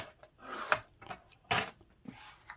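A paper cutter slicing a 3 inch strip of packaging material for mini donut boxes, heard as a few close, separate rasping scrapes with quiet pauses between strokes.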